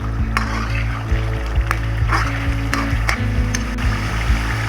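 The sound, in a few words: ginger and green chili frying in karahi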